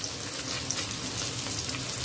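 Paneer cubes frying lightly in hot oil, a steady dense sizzle that stays even and close throughout with no pauses.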